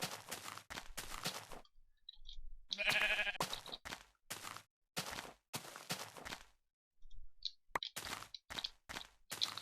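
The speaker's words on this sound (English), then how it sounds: "I've got more sheep." Sheep in Minecraft, a video game, bleat in short, repeated blocky bursts, about a dozen separate calls spaced irregularly with brief silences between them, clear and close with no talk over them.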